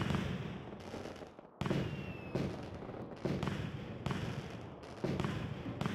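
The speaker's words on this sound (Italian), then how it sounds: "Fuochi d'artificio inizia così." Fireworks in the opening scene of the Super Mario 3D World video game, a run of booming bursts at roughly regular intervals, each with crackling decay, loud and close with no talk.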